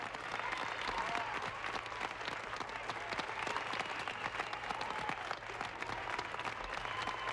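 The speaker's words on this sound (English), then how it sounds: "There's a cheer in this room." A crowded mission control room bursts into sustained clapping and cheering at the Apollo 11 moon landing, an even, dense roar of many hands, moderately distant, carrying on without a break.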